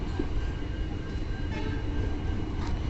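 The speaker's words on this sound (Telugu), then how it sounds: "Kazipet to Dadar first time entering Karimnagar railway స్టేషన్లో." A passenger train arriving at Karimnagar railway station rumbles close by in a steady, heavy roll of rail and wheel noise, with no one talking.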